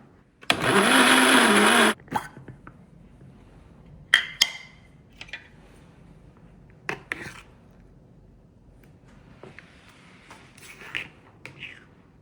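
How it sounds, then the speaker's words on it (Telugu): A grinder blends masala with yogurt in one loud, dense burst of about a second and a half. Scattered clatters, taps and faint rustling follow, all close by. "సో అంతే, పెరుగు వేసి గ్రైండ్ చేసేయడమే"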